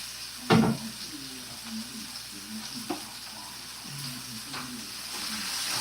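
Onions fry in a pan with a steady, close hiss and sizzle, marked by a sharp crackle near the start and a smaller pop later.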